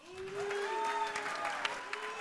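Audience booing at a mayoral forum, a sustained crowd noise rising from a packed room and holding steady for a couple of seconds, with a few voices carrying above the din.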